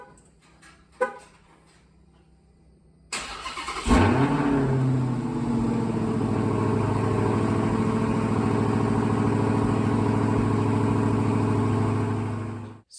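A 2022 Dodge Challenger Hellcat Redeye Widebody fires up close by after a quiet lead-in with a small click, barking into a loud rev before settling into a deep, steady, rumbling idle that carries to the end.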